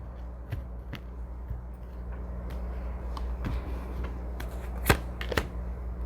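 Tarot cards are shuffled close up, soft papery riffles and a few sharper flicks and taps over a low steady background hum, with no talking.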